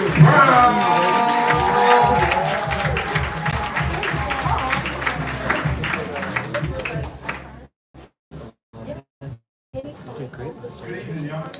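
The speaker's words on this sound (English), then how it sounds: "Y'all make y'all hands clap and make a lot of noise for none other than John Brown." A live crowd at a spoken word poetry show claps and cheers in a dense, sustained wave that fades out, leaving a few scattered claps and sparse noise near the end.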